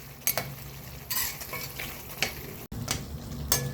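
Masala fries in oil for a cauliflower pepper fry while being stirred, with a close, continuous sizzle broken by several sharp spatula scrapes against the pan and one brief drop to near silence.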